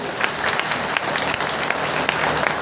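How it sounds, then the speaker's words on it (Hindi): A crowd at a political party rally in India applauds on cue for Babu Ram Pal, steady dense clapping from many hands throughout, close and continuous without speech. "तालियां बजाइए आप लोग"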